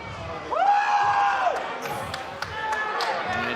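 A power slap event crowd roars and cheers in a large arena, a sustained mass of voices with a rising shout and scattered whoops, fairly close and loud.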